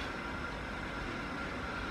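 A train rumbles with a steady, dense low roar and hiss, heard as constant noise without distinct individual events.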